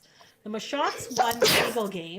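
A single sharp sneeze bursts out in the middle of ongoing conversation, loud and close, with people talking before and after it.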